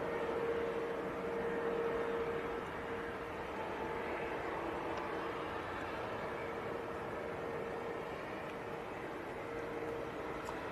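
A passenger plane departing for Brussels takes off from a wet runway at Manchester Airport, producing a continuous broad engine roar with spray hiss that holds steady and loud throughout, with no talking.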